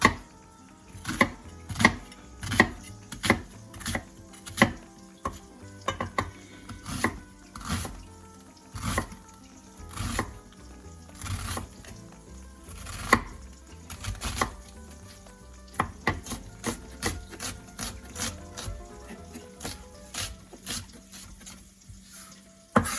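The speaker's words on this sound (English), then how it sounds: "put in the last of the onions" Onions fry in a pan for shakshouka, with repeated sharp scraping and knocking of a spoon stirring them over a steady sizzle, close and fairly rhythmic, no talking.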